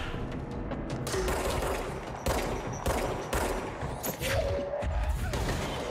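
Rapid gunfire bursts crack through a firefight in the video game Control, loud and close, with heavy thuds punctuating the shots.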